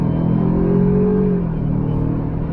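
A 2020 Ford Ranger STX 4x4 with a 4-cylinder engine pulling away from a stop, a steady close engine drone that rises briefly in pitch then settles, heard alone.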